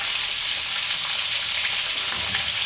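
Vegetables for shukto, seasoned with salt and turmeric, fry steadily in a pan with a dense, even sizzle and the light scrape of stirring, close and constant with no voices.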